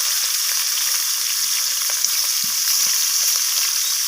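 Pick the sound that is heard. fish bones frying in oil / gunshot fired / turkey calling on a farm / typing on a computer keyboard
fish bones frying in oil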